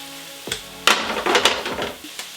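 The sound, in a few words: garlic and onions sizzling in a pan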